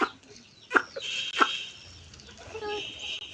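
Farmyard roosters and hens make a few sharp clucks and calls close by, two louder bursts standing out over quiet background rustle.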